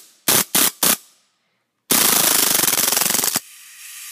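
Three quick single shots, a pause, then a loud sustained burst of full-auto fire from a KWC Broomhandle Mauser CO2 replica pistol, about 17 rounds a second, lasting about a second and a half, ending abruptly with a hiss.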